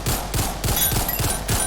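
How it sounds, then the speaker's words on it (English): Dual pistols fire full auto in the Ragdoll Universe video game, a rapid, loud, steady stream of sharp gunshots with no pauses. "I'm gonna go with the dual pistols."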